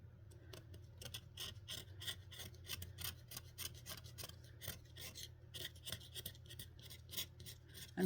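Hand filing and scraping of leftover glue on a plastic M903 model kit part, a steady rasping scratch repeated in quick strokes throughout, close and fairly quiet.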